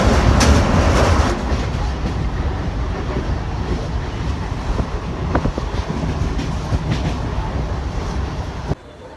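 A Mumbai suburban local train bound for Thane rumbles loudly and close by, its steady roar and wheel clatter running continuously before cutting off sharply at the end.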